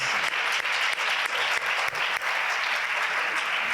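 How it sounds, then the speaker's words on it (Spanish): A round-table audience on conscious eating applauds, dense, continuous clapping close to the microphone that stays even throughout. "un aplauso por esa clase magistral que acabas de dar"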